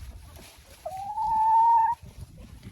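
In a farmyard, a chicken gives a single drawn-out, steady call lasting about a second, moderately loud over faint low rustling and scratching nearby.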